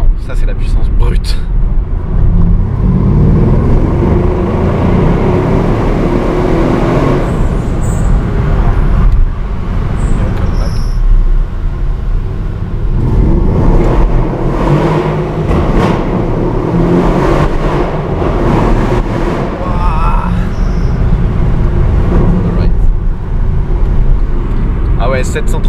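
A 730-horsepower rear-wheel-drive super sedan at a Top Marques 2017 supercar test drive accelerates hard, its engine roaring and surging loudly under excited talk from people inside the car.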